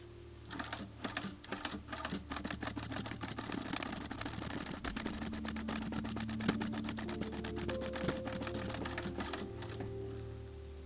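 A sewing machine stitches through a leather wallet in a rapid, steady run of mechanical clatter with a faint motor hum beneath it, nearby and alone with no voices.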